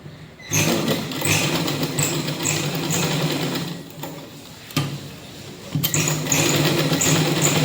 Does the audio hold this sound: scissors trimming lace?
no